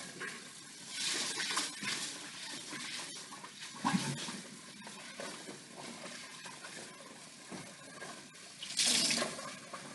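Rice is rinsed in water, and the cloudy rinse water is poured off in a home kitchen. Steady splashing and pouring runs throughout, with a brief clunk partway through and a louder gush near the end.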